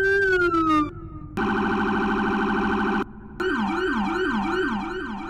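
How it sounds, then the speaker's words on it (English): Sheriff car sirens in the Roblox game Connecticut State Role Play, cycling through several loud electronic patterns: a falling tone, a steady pulsing wail, then a rapid warbling yelp, each cut by brief gaps. "So those are the sirens for all the sheriff cars."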